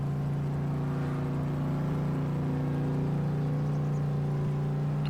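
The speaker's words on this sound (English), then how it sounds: "Boy, it sounds like a big bad truck." A big truck engine in a farming video game runs at a steady low hum, loud and constant with no breaks, heard alone with no talking.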